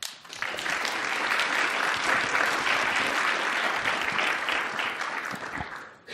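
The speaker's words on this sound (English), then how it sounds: "Let's give the first-time speaker here a round of applause." Sustained audience applause at a conference talk welcoming a first-time speaker, a dense steady clapping that holds for several seconds before tapering off at the end.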